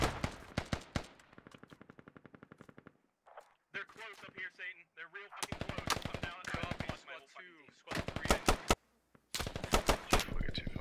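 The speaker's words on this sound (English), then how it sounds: "Sandbags go flying, grenades going off." Rapid bursts of rifle and machine-gun fire crack in Squad, a military shooter video game, with close, loud volleys and short pauses between them, and grenade blasts mixed into the firefight.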